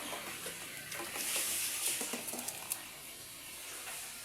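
Pieces of milkfish (bangus) going into a pot to cook as sardines, a brief soft rush of sizzling and clattering that peaks midway and then settles into quiet hiss, faint overall.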